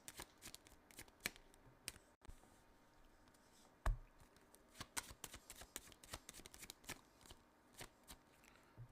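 Tarot cards being shuffled and drawn from the deck, a quiet close series of crisp riffles, flicks and taps in irregular rhythm with brief pauses, no voice heard.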